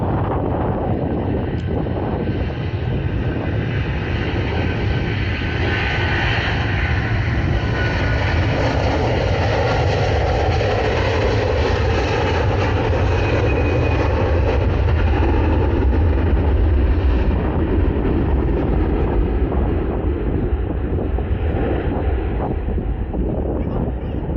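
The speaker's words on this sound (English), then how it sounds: "Let's listen to those Rolls-Royce engines roar, eh?" A loud, steady roar of an Airbus A330's Rolls-Royce jet engines on takeoff at Manchester Airport, with heavy wind buffeting on the microphone, sustained throughout with no talking.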